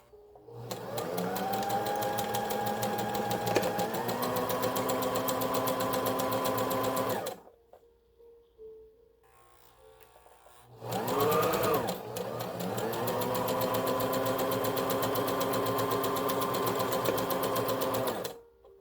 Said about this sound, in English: On the left side, I'm going to sew the two sides together right now.